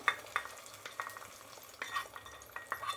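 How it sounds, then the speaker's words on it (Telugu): Fried shallot tempering is tipped into simmering sambar and stirred, giving crackling sizzles and repeated scraping stirs of a ladle in the pot, close and moderately quiet, with no talking. "ఇప్పుడు సాంబార్లోకి చిన్నెరగడ్డలు పోపు పెట్టాం కదా, అది వేసేద్దాము."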